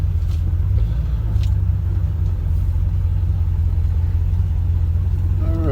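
A 1977 Pontiac LeMans idling with a steady low rumble, close and loud, the engine running continuously with no voices.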